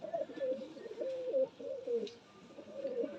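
A female Malwai pigeon coos repeatedly in soft, throaty bursts, close by and alone with no talking.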